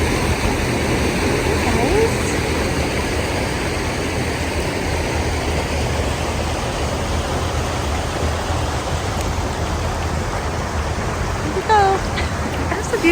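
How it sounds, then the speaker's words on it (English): Steady broadband rushing of a garden waterfall fills the scene, constant and fairly loud throughout, with a brief faint chirp near the end. "Beautiful waterfall"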